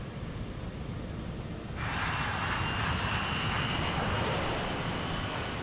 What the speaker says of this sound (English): Captain Grubbs tries to steer clear of the oncoming KLM. But it's bearing down on them at nearly 200 miles an hour.